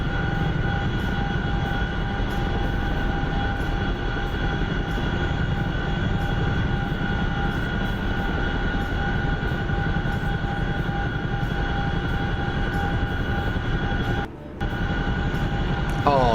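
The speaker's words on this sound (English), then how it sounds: "the only thing I don't like about the Chinook is it's friggin' loud" Loud, steady rotor and engine drone of a Chinook helicopter in the DCS flight simulator, filling the whole stretch with a constant roar and a brief dropout near the end.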